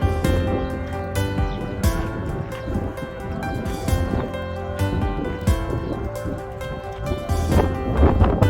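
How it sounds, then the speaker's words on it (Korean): Strong wind sweeping sand across the ancient Edfu temple site in Egypt buffets the microphone with a loud, continuous, gusting roar that swells and dips throughout. "바람이 많이 불어서 의자를 쓸 수가 없어요"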